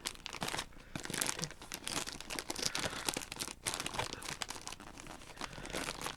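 Gift wrapping paper from a Christmas present is unwrapped slowly and carefully, giving a steady run of crinkling and crumpling rustles with a few tearing crunches, close and fairly quiet, with no talking.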